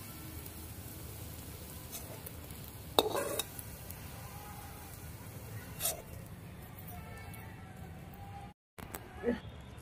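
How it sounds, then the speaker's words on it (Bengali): Mankochu (taro) pakoras frying in hot oil give a constant low sizzle, broken by a few sharp clinks and scrapes of a utensil in the pan. "এইভাবে লাল লাল করে আমরা পকোড়াগুলো ভেজে তুলে নেব"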